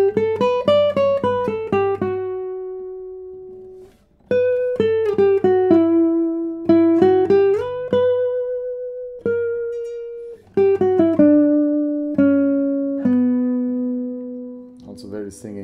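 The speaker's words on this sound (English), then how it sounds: "let's see how this guitar sounds in the higher positions" A traditionally built French classical guitar plays a slow melodic line high on the neck, with clear, rounded plucked notes ringing and sustaining alone in phrases separated by short pauses.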